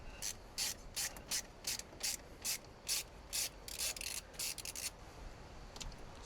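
A wrench ratchets in short repeated bursts while loosening bolts on the water pump of a 2.0 diesel M47 BMW E90 with 240,000 km, close and fairly loud, then stops.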